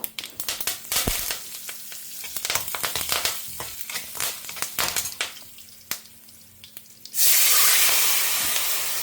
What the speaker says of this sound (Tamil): நான் கொஞ்சமாக எண்ணெய் குத்தின்னு இருக்கேன் கடுகு வெந்தயம் பொரியட்டும்